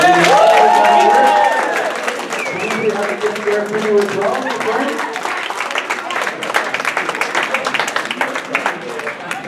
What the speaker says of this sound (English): So please give Alex a huge round of applause.